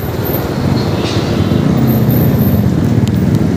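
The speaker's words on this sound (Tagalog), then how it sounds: "Yun lang, dito pala yung traffic." Road traffic in Manila near the Skyway Stage 3 construction at Santa Mesa: a dense, continuous rumble of cars, buses and trucks, steady and close, with no clear voices.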